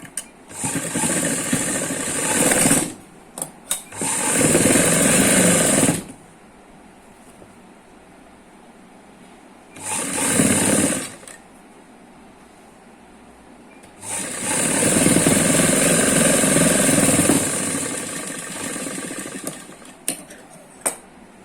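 A sewing machine stitches a belt seam on palazzo pants in several loud bursts of steady whirring separated by quiet pauses, running alone without talk.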